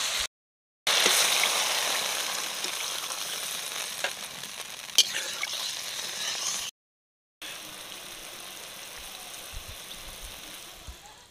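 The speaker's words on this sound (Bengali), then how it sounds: "তরকারি ঝোলটা ফুটছে" Cabbage manchurian curry gravy boils in a pan over a wood fire, a continuous bubbling hiss with small pops, close and moderate in level, interrupted by two short gaps.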